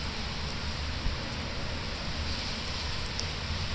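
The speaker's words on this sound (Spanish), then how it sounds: "se va a sostener la lluvia por incluso hasta por 96 horas" Torrential rain pours down over Chihuahua, a dense, steady roaring hiss that holds evenly throughout with no voices.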